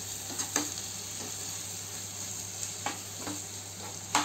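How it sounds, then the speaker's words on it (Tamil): Tomatoes sautéing in a pan for butter chicken, a soft, constant sizzle with a few spaced spatula scrapes and taps, the last one louder. "போட்டு நல்லா வதங்கட்டும், தக்காளி நல்லா வதங்கட்டும்"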